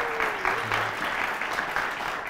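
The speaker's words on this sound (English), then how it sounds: "How about another round of applause for the Byron Tigers?" Steady applause from an audience cheers the Byron Tigers team, an even crackle of many hands clapping throughout, with a faint voice trailing off at the start.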